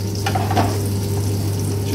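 Paprika added to a hot pan for shakshuka, a close, steady sizzle and frying hiss with a brief stirring scrape, no talking.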